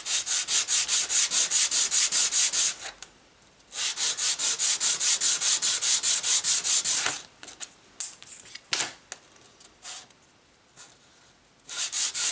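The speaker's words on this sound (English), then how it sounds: "just go ahead and give them all a light sanding" Rapid, rhythmic rubbing strokes of sandpaper lightly sanding wooden guitar picks, loud and close, in bursts separated by short pauses.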